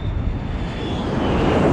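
A remote-control A-10 model plane flies overhead, its engine a steady broad whooshing drone with a thin high whine, growing slightly louder as it passes, with no talking.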